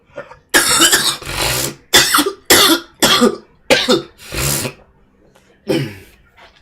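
A man coughs repeatedly in harsh, loud bursts, about eight fits spaced across the stretch with short pauses between, a lingering cough that persists despite medication.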